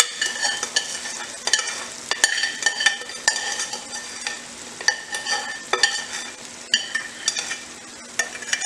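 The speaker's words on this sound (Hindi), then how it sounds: "ये जो चाशनी हमने बनाई है ये हम इसी के अंदर डाल देते हैं इस तरह।" Sugar syrup is stirred into a sweet and sour raw mango chutney in a cooking pan. Repeated close scraping and clinking spoon strokes come over a soft, continuous sizzle, with no voices.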